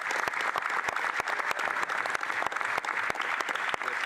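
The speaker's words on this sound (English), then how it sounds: "yes, give her a round of applause for that," Applause during a House of Commons sitting, a dense, steady clapping of many hands with sharp individual claps standing out, loud and continuous throughout.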